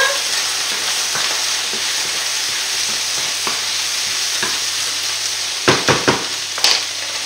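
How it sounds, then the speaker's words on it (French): Chicken meat frying in a pan for a chicken blanquette with mushrooms, a steady close sizzle with soft scraping stirs and a few sharper utensil knocks near the end. "Voilà, on remue. Je vais remuer ma viande."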